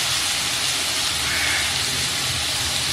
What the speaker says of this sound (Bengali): 5-6 মিনিট ধরে আলুগুলো একটু ভালো করে ভেজে নিচ্ছি।